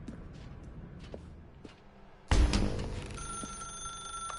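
In The Stanley Parable, a telephone suddenly starts ringing with a loud, close bright ring after quiet footsteps and a low hum, its trill lingering.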